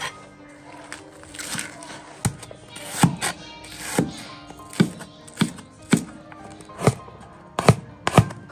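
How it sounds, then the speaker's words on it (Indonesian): Knife chopping Chinese spinach on a cutting board, a steady series of sharp close knocks roughly every half second in a home kitchen. "Tapi sebelumnya saya akan potong-potong dulu sayur bayam China-nya."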